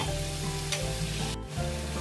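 Chicken curry sizzles and fries in a pan while it is stirred, a close, steady crackle with a couple of short scraping pauses.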